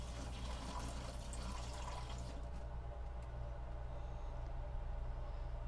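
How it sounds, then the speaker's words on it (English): Water pours into a Modiwell RV toilet bowl, a faint continuous splashing trickle that fades partway through, with a low air-conditioner hum in the background. "let's pour some water in here"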